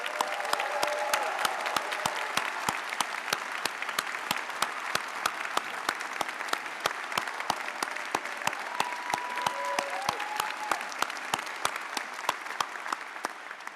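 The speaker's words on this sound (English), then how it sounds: "I'd love to give a round of applause to Dr. Kim Schnartz" Sustained audience applause at a medical school convocation, a dense, even roar of many hands clapping with sharper individual claps popping out, continuous throughout with faint whistles or cheers rising briefly above it.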